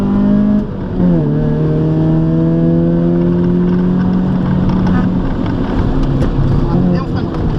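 Race car on the Bourbonnais circuit braking hard, then accelerating out of a corner, its engine note dropping and rising again close by, with an instructor's voice talking over it.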